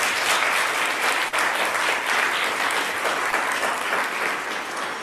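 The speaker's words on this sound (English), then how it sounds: "if we could all just lift up in a round of applause" Sustained applause fills an indoor hall during a talk at a Black history event in Detroit, with dense, even clapping from a large audience that holds steady throughout.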